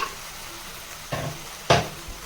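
Three chopped tomatoes sizzle in a pan for a white pumpkin masiyal side dish, a soft steady frying hiss broken by two louder stirring scrapes.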